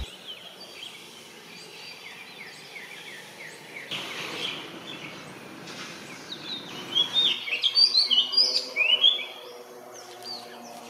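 Birds chirp around a Bangkok Buddhist temple, among them oriental magpie robins, feral pigeons and coppersmith barbets, a steady distant chorus of twitters, with louder, nearer whistled calls building toward the end.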